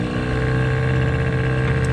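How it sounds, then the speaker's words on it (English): A boat motor runs steadily on a large lake in Honduras, a loud, close, continuous engine drone with a low hum and constant rumble and no change in pace. "Well, the motor's kind of loud,"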